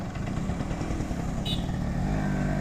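A motorcycle engine runs close by with its throttle twisted, holding a steady, loud, rough drone throughout with no clear rise or fall.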